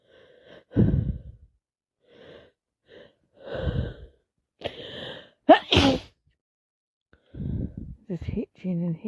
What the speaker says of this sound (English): needing to sneeze all the time, and then sneezing